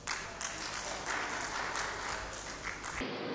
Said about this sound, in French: Sous les applaudissements nourris,